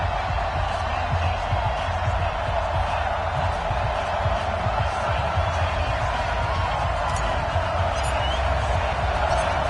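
Stadium home crowd in an EA Sports NFL video game, Dolphins fans before a matchup with the Buffalo Bills, a steady loud roar of cheering that holds throughout with no clear breaks.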